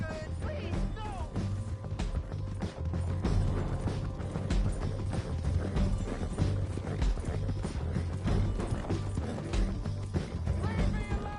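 Horse hooves clip-clopping in Red Dead Redemption 2, a steady mid-distance rhythm of hoof strikes mixed with creaking, mechanical tack noises and a busy game background.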